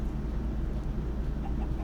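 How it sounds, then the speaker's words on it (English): Chickens in Minecraft give soft, close clucks over a low steady hum of game ambience, brief and fairly quiet. "And the chickens."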